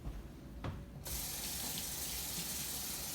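Tap water bursts on and runs steadily to soak a rag for cleaning a stove, a continuous close hiss and splash after a second of quiet room noise.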